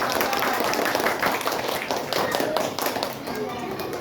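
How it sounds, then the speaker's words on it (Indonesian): Schoolchildren clapping for a visiting physical education teacher in a classroom, a brisk uneven burst of many small hands that thins out toward the end, with voices mixed in. "Kita beri tepuk tangan dulu yuk buat Aga."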